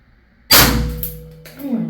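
An X-68 air gun running on HPA with a short tuning chamber fires a pellet into a metal target, producing a single sharp metallic clang that rings and fades over about a second, followed by a faint voice.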